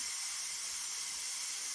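A T-fal pressure canner processing carrots vents steam in a steady, even hiss that holds without a break, close by and fairly quiet, with no voices.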